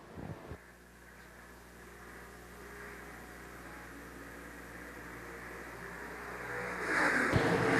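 Several IMCA stock cars roar steadily around Shelby County Speedway, engines droning at a distance and swelling louder near the end as they pass closer, racing side by side.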